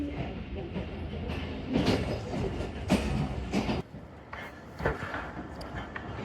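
The Tezgam Express pulls out of Raiwind Junction station toward Lahore, heard from inside as a rumbling rolling train with rhythmic clattering wheels and occasional clunks, and someone speaking over the noise.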